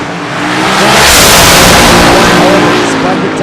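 A Top Fuel dragster roars down the drag strip at Famoso Raceway during Saturday Night Nitro, an extremely loud, close engine blast that swells and holds for a few seconds, swamping everything else.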